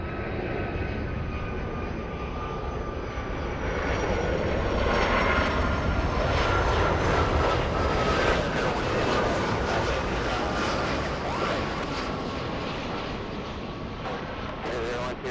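A Southwest airliner lines up on runway 24 left at LAX, its engines giving a steady, loud broadband roar with a faint whine that holds for the whole stretch, while radio voices talk over it.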